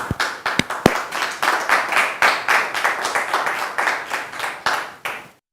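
Studio audience applause from a French-language television talk show: brisk, rhythmic clapping from a small crowd, close and steady, beginning with a few sharp individual claps and stopping abruptly.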